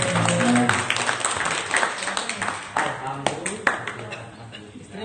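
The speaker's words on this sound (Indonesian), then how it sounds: "Tepuk tangan." An audience at a school gathering for Maulid Nabi claps in a dense, continuous wash of hand claps that slowly thins toward the end, loud and close.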